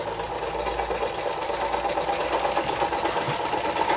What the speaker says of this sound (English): What a lovely engine.